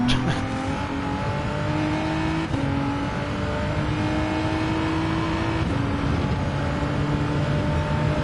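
A Mercedes AMG race car in a racing video game revs hard on medium tyres, its engine note climbing steadily through gears with brief shift breaks, loud and close, with some tyre squeal under the drone.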